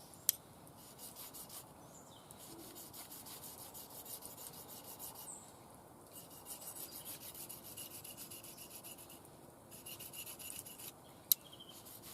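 A blade is drawn across sharpening stones at a campsite, a faint, repetitive rasping scrape in regular strokes with short pauses between passes.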